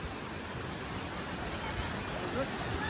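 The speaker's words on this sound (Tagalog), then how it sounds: "Guys, still have waterfall over there." A waterfall pours with a steady, even rush of broadband noise that stays constant throughout, heard from a little distance.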